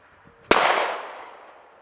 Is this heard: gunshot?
yes